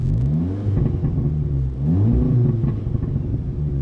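A 2010s Audi S3 8V hatchback engine revs in neutral with its exhaust valve open, giving a steady, close, deep droning rumble that rises and falls with throttle blips and has no talk over it.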